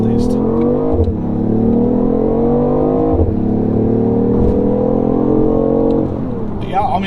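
A 2015 BMW i8 hybrid sports car with a three-cylinder engine accelerates loudly up through the gears, its engine note climbing in pitch, dropping at shifts near one and three seconds, then climbing again, with people talking inside the cabin.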